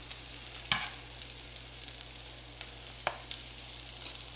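Bacon frying in a pan at a steady, faint sizzle, with a couple of soft utensil clicks as it cooks.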